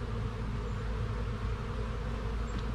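Honey bees swarm around an open hive with fresh comb being built, giving a continuous low buzzing drone that stays steady and close throughout, with no talking.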